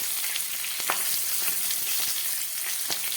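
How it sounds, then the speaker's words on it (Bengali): White cumin and four green chilies hit hot oil already tempered with black cumin, for hilsa cooked with eggplant, giving a steady close sizzle dotted with sharp crackles and pops. "এবার একটু সাদা জিরে ফোড়ন দিচ্ছি দিয়ে চারটে কাঁচা লঙ্কা"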